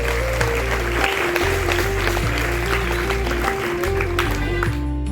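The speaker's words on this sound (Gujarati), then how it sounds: "આપણે બધા દેવને તાળીઓના ગડગડાટથી વધાવી દઈએ." Clapping from an audience at a primary-school yoga festival welcoming a student, spread evenly under a loud, repeating musical melody for about five seconds.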